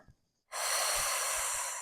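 A person breathes out through the mouth in one long, steady, close exhale during a diaphragmatic breathing exercise, following a short quiet pause.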